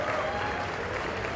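Audience applause at a law school convocation ceremony, a dense steady clapping from a large crowd that holds unbroken through the whole moment.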